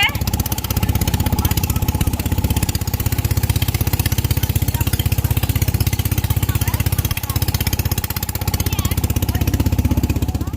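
An engine van rumbles along on a trip to a deer park, its small engine chugging in a fast, steady pulsing drone throughout, close and continuous with faint voices underneath.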